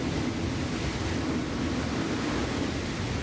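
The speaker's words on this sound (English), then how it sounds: "The violent motion triggered giant tsunami waves, walls of water 90 feet high or more that battered the coastline" Tsunami waves, walls of water tens of feet high, battering a coastline make a steady, dense roar of surf and rushing water that continues evenly throughout with no voices.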